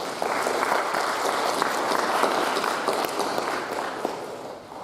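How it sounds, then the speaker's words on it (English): A school audience at a middle school moving-up ceremony gives a round of applause for a retiring staff member, sustained dense clapping filling the room, steady and fairly loud throughout. "Let's give her a round of applause"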